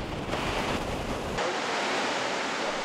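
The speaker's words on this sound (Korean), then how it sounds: "폭포는 보는 것뿐 아니라 체험할 수도 있습니다" A huge waterfall roars with a continuous, loud, close broadband rush of falling water, unbroken and with no voices.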